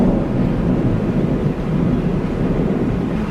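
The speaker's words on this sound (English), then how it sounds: "Louisiana thunderstorms, baby." Thunder from a Louisiana summer thunderstorm, a loud low rumble that rolls on continuously with gusty, blustery noise over it.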